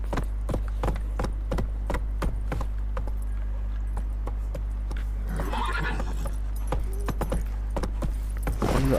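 Roach, the horse in The Witcher 3, clip-clops along with steady, evenly spaced hoof beats on hard ground, close and crisp over a low constant hum, with a brief rustle partway through.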